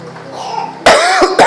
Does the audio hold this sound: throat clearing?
yes